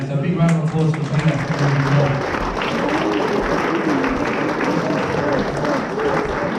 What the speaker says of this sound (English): So big round of applause for Peter.